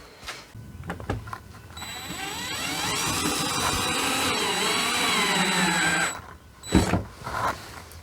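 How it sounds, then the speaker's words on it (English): A power drill whirs loudly for several seconds with a rising, wavering whine as it drills through a poster into a wall, preceded and followed by short clunks and handling noises. "we are just drilling right through that poster"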